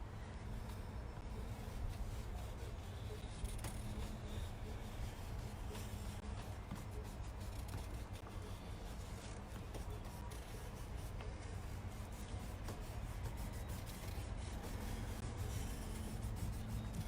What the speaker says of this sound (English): I'm going to be erasing my pencil lines that are still showing.